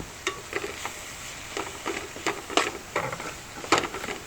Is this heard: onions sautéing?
yes